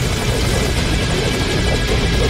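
A helicopter roars steadily and close in Metal Gear Solid V: Ground Zeroes, a loud, continuous thrumming rotor wash with no break and no speech.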